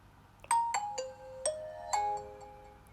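A Nokia 6.1 phone ringtone plays as a short melodic sequence of five or six clear chime-like notes, each struck and then decaying, heard alone and fairly faint.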